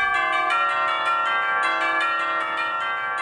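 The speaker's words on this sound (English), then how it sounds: "chimes" Percussion chimes ring in a steady, shimmering run of overlapping bright metallic strikes, each tone sustaining into the next, played alone and fairly close.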